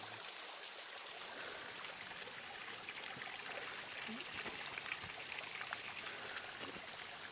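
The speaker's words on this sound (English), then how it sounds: "I guess it's because those other streams are popping up." Mountain streams flow beside a hiking trail between Woody Gap and Gooch Mountain Shelter, making a steady, fairly soft rush and trickle of water throughout, with no talking.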